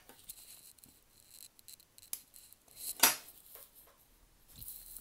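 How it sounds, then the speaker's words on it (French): Scissors snip the loose yarn ends off a crocheted hat. A few quiet, close cuts and small rustles come at irregular moments, with one sharper snip in the middle. "Coupez vos fils, tous vos fils qui dépassent"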